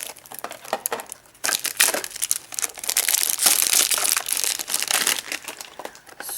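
Packaging on a Pokémon card box is cut open with scissors, producing close, loud crinkling and crackling of plastic wrap in dense, irregular bursts after a short quieter opening.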